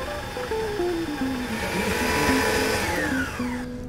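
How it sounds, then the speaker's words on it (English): Waring commercial tabletop stand mixer creaming butter with confectioners sugar, a steady loud motor whir with a shifting, stepping pitch as the beater churns, running throughout with no talk. "we're going to start off our dessert with the Waring tabletop mixer"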